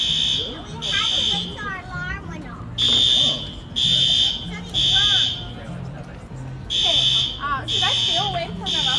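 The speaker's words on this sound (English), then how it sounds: "the fire alarm just went off" A fire alarm sounds in repeated loud, high-pitched bursts during a morning outing in Savannah, with people talking and music-like background sound running underneath.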